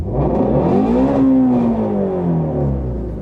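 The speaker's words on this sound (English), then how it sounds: "the clutch has to be in or it'll rev all the way up" A Shelby Mustang GT350 engine holds a steady high rev on launch control, its droning tone rising slightly and then sagging, loud and continuous throughout.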